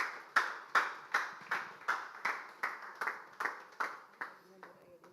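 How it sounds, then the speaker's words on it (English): An audience welcoming a guest speaker claps in a slow, even rhythm, about a dozen sharp, evenly spaced claps at moderate volume, easing off at the end. "With a warm round of applause,"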